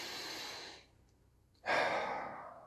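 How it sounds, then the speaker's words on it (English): Slow, deep breaths during a breathing exercise: a long airy exhale, a brief quiet pause, then a strong close inhale, with no talk. "you breathe deeply"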